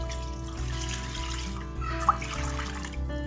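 Water is poured into a pan to make sugar syrup for gulab jamun, giving a steady trickling splash that runs for a few seconds with a small clink partway through.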